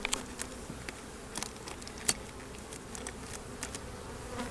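A low, steady buzz of many honeybees humming together at a small hive in October, with occasional louder buzzes passing close by.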